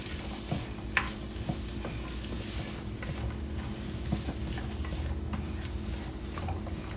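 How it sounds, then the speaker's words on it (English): Oxtails sautéing in a pan over medium heat, a soft steady sizzle with faint stirring clicks and scrapes running continuously, quiet and close, with no talking. "we're gonna just saute them up a little bit"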